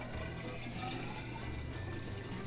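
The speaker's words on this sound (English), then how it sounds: "Now I'm going to pour the water into the graduated cylinder" Water pours steadily into a graduated cylinder in a gas lab setting, a continuous liquid splash that stays level and close for the whole stretch, with no talking.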